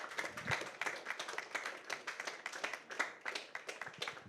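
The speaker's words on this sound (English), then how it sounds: "Huge round of applause, ladies and gentlemen, for the entire cast and crew who have worked day in and out." Scattered applause for the cast and crew at the Bharateeyans teaser launch, a small crowd of individual hands clapping in a steady patter at moderate distance, with no voices over it.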